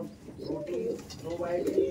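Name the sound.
Abluk pigeon cooing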